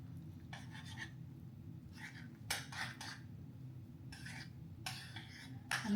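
A utensil clinks and scrapes against a bowl or dish while food is mixed, in several short bursts of stirring with quiet gaps between them, close and fairly soft over a low background hum.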